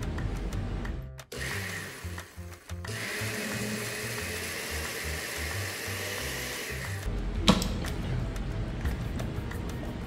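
Blender mixing sour cream and milk, whirring in bursts then running steadily for several seconds before stopping, close and moderately loud, with clattering handling noises around it.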